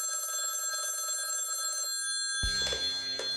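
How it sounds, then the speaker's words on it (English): A telephone rings with a steady electronic tone, then a louder burst of ringing cuts in near the end. "That evening, she received a phone call."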